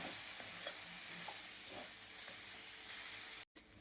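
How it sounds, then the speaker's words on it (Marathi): Grated coconut and beetroot stir-fry in a pan with a soft, steady sizzle and scattered scraping stirs, close and fairly quiet, with a brief cut near the end. "हा नारळ घालून आपल्याला एकसारखं परतायचं आहे."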